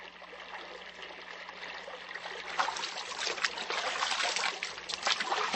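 Stream water trickling steadily in an outdoor creek in the Korean countryside, a continuous bright babbling wash that grows slightly louder midway, with no voices.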